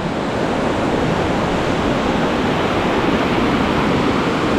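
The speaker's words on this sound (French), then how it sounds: "On va être bercé par la rivière, c'est chouette." Steady, loud broadband rush of a flowing river heard up close beside a small bridge, continuous and even throughout with no voices.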